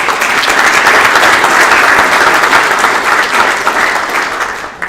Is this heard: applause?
yes